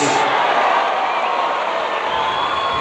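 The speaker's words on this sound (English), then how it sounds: "crowd are getting right behind Nadal still" A tennis stadium crowd cheers and roars steadily for Nadal at a match in Doha, a broad sustained wash of applause and voices that holds at a constant level.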